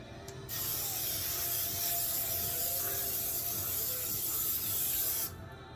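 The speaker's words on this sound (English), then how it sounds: "Okay, test spray is done." A continuous hissing spray runs for about five seconds, steady and close, starting and stopping abruptly with no voices.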